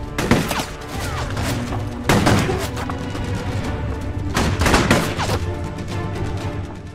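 Gunfire from armed men shooting during a chase, with repeated loud bursts of shots and booming thuds over a dense, continuous roar of action, the heaviest volleys landing near the start, around two seconds and near five seconds.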